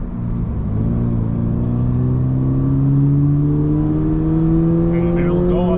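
A Toyota GR86 with a manual transmission accelerates under load, its engine note climbing smoothly and steadily in pitch as revs rise, loud and close from inside the car with no pause in the drone.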